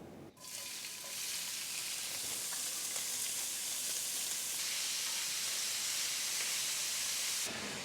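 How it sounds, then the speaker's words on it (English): Slices of precooked Canadian bacon browning in a pan, a steady close sizzle and hiss that starts abruptly and holds evenly throughout with no voices. "Let's cook our bacon, or actually, we only need to brown it because the bacon is already cooked."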